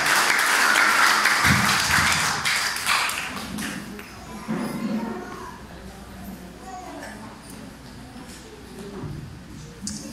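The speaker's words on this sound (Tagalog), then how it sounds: "ikaw na po magbibigay ng iyong palakpak para sa Panginoon" A church congregation applauding for the Lord, with loud dense clapping that fades after a few seconds into scattered claps and murmuring voices in the room.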